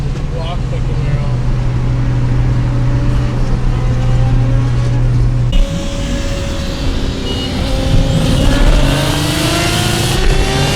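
A Chevrolet Camaro's engine drones and revs up nearby, a steady low roar that rises in pitch partway through, with talking and music over it.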